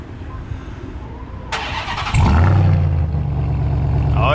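A 2022 RAM TRX pickup's V8 cranks with a starter whine, then catches and rumbles to life, settling into a deep, steady idle close by.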